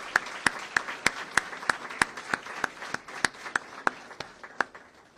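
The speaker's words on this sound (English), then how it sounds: "So if we could just give these troopers and these public servants here a round of applause for their service." An audience applauds troopers and public servants at a law-enforcement event with Florida's governor. Sharp, distinct claps come at an even rhythm over a light crowd wash, fairly near and moderately loud.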